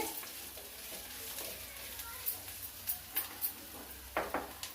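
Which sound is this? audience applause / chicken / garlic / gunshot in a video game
garlic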